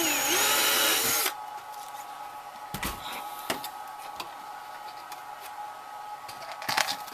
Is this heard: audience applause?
no